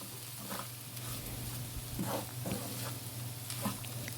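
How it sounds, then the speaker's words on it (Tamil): Masala coats baby potatoes and egg in a pan over medium flame, a soft low sizzle with scattered scraping stirs, faint and close. "அந்த அளவுக்கு நல்லா மீடியம் ஃப்ளேம்லேயே வச்சு நல்லா மிக்ஸ் பண்ணி விட்டுக்கங்க"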